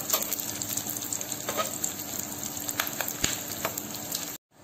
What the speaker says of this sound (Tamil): சேர்த்துட்டு நல்லா ஃப்ரை பண்ணி எடுத்துக்கலாம்.